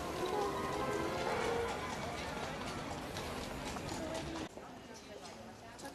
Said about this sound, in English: we're in a horse carriage going for it